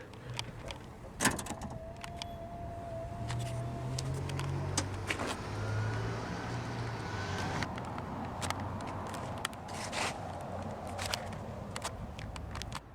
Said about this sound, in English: it also has a soft closing trunk feature